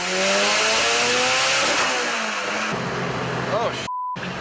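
Heavily boosted 900 whp Mitsubishi Evo X engine on an all-wheel dyno, a loud, sustained revving drone that holds steady before the pitch drops as the run ends, with a beep near the end.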